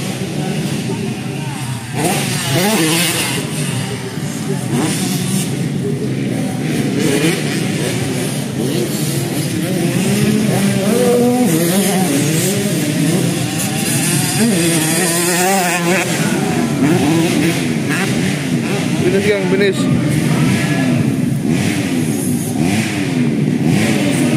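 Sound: motocross bikes racing

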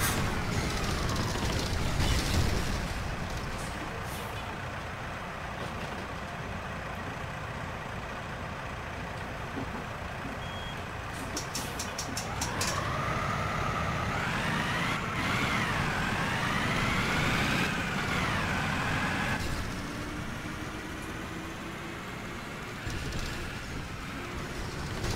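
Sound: VW 9-160 OD bus engine and air brakes in OMSI 2 game

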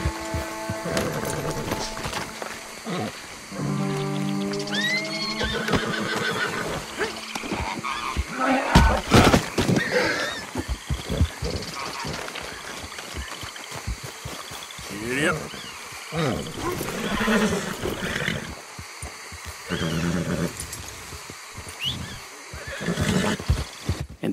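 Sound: black Arabian horse neighing, from video game Red Dead Redemption 2

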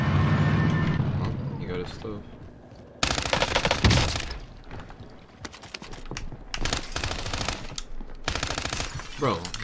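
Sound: gunfire from an LC10 SMG in Call of Duty Warzone video game

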